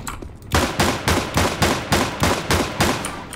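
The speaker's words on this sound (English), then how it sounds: "Let's try the dual Barretts" Dual Beretta pistols fire in CS:GO, about seven sharp evenly spaced shots in a steady rapid rhythm, loud and close, with no voices over them.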